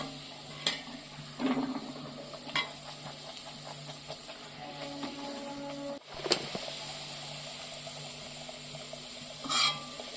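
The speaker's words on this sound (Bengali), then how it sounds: "আর একটু লাল লাল করে ভাজছি" Matar kachori deep-frying in hot oil until reddish, with a steady close sizzle and occasional clinks and scrapes as the pieces are turned over.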